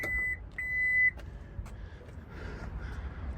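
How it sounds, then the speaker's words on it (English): A 2023 Honda Pilot's automatic tailgate gives a few short electronic beeps in quick succession as it fails to open, parked very close to another vehicle, followed by faint mechanical clicks and a low outdoor rumble. "I'm going to attempt to pop this tailgate and see what happens."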